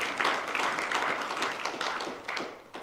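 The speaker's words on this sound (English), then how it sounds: "With a round of applause, ladies and gentlemen," Audience applause for a media panel at a summit, dense steady clapping from a crowd sustained throughout, moderately loud with no talk.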